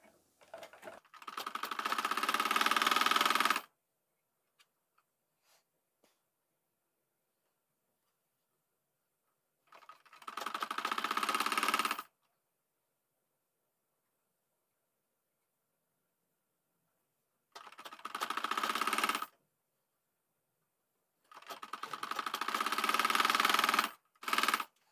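Bursts of a sewing machine stitching a kameez sleeve joint, four separate runs of a few seconds each with silent pauses between, close and steady.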